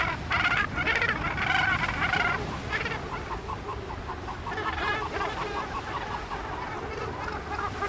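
Cape gannets in a huge breeding colony on Malgas Island call in a dense, harsh, overlapping racket of many birds, bursts of nearby calls rising over the constant chatter.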